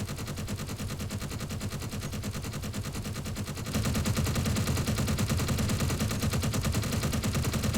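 Rapid, continuous automatic turret fire in the Space Engineers game, a dense stream of shots that grows louder partway through and runs without pause, with no talking.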